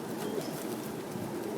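Pigeons cooing outdoors, a soft, steady low murmur of calls at moderate distance, continuous through the short stretch with no talk.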